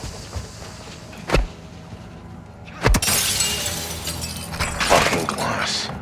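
Glass shatters in the Modern Warfare II campaign with a sharp crash and a spray of tinkling fragments, preceded by dull impacts and followed by more breaking debris amid ambient game noise.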